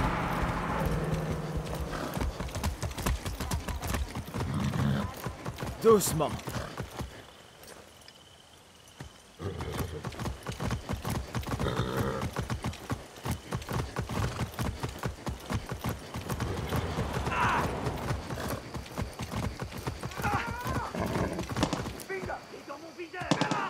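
Steady clip-clop of a horse's hooves at a trot in the video game Far Cry 6, continuous and close, with a brief quieter stretch and occasional spoken French words over it.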